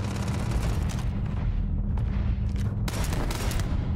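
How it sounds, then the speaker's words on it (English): Gunfire in the video game Starfield: repeated bursts of shots, broadband and fairly loud, separated by short pauses over a steady low rumble. "Who's shooting?"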